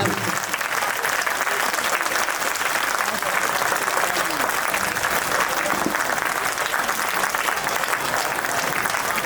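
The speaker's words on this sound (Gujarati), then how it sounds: "તાળીઓ પાડો બધા જ" Women in the crowd clap together at the Shree Harsiddhi Mataji Pran Pratishtha Mahotsav in Sultanpura, sustained thick applause running steadily for several seconds with voices mixed in underneath.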